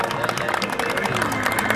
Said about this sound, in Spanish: Fuerte el aplauso para ellos, renovamos el aplauso